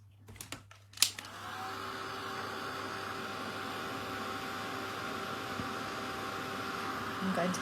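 A heat gun blowing while heat embossing a Halloween card, starting after a few quick clicks and handling knocks, then a steady close whooshing hiss of hot air that runs on evenly to the end.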